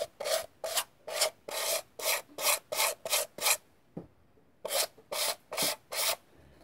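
A DOHC engine cylinder head surface is polished by hand, giving a rhythmic series of close rasping rubs, about a dozen even strokes with a short pause midway, and no talking.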